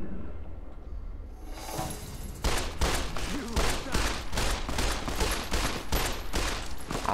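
Rapid gunfire from the video game Fallout New Vegas, a dense run of loud repeated shots starting after a quiet moment of ambient game sound and continuing steadily.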